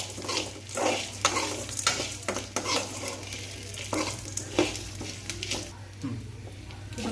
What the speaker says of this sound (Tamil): இதையும் சேர்த்து நல்லா கிளறி விடுங்க.